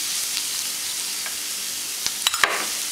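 Chole masala stirred in a pan gives a low, steady sizzle with a few soft scraping clicks of the spoon near the end.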